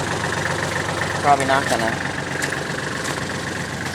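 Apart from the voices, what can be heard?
Allis Chalmers tractor engine idling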